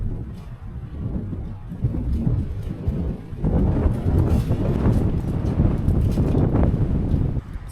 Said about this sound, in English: I can just hear a faint rumble of thunder now coming